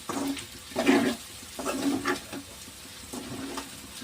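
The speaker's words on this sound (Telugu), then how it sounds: "చక్కగా ఇలా ఇలా కలుపుతూ ఉండాలి" Chicken kandanakaya fry being stirred in a pan: a spoon scrapes and pushes the pieces in several separate strokes, roughly four pulses, over a soft background sizzle, close and fairly quiet.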